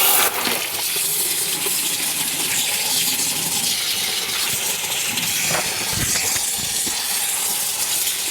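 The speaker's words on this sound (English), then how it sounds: "I'm gonna rinse these with cold water and see where we're at" Cold tap water runs steadily at full force while vintage quilt pieces are rinsed under it, a loud, continuous splashing hiss with occasional sharper drips and knocks, close by and with no talking.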